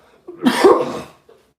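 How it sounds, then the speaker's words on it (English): A single harsh cough sounds close by, sharp and raspy, followed by a brief faint breath. "I'm going to cough"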